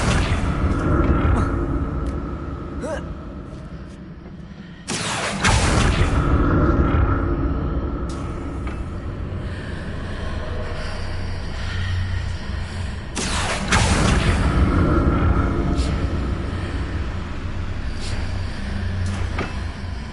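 Accio summoning spell cast in the Hogwarts Legacy video game: two sudden loud whooshing bursts rise over a steady rumbling game soundscape, with sharp magical impacts scattered between them.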